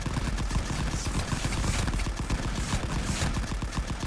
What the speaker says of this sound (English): we can actually grab the machine gun